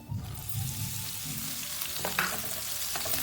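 Onions frying in oil with cumin and coriander, a close crackling sizzle under repeated scraping and stirring strokes, with a few sharper clicks of the utensil and no talking.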